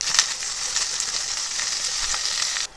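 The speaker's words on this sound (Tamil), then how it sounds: "இப்போ நல்லா வதக்கிடுங்க" Ingredients for horse gram chutney sauté in hot oil, making a steady, close, bright sizzle with a few crackling pops, with no voices.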